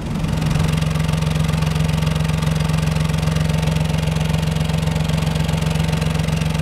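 A 2018 BMW 218i Gran Tourer's three-cylinder engine idles steadily and loudly up close, a constant low throbbing drone with an even, slightly uneven-firing rhythm and no voices.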